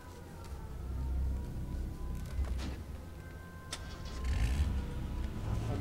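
A car engine in the video game H1Z1 cranks and catches, then settles into a steady mid-pitched idle with a slight rev, loud and close, with no talking over it.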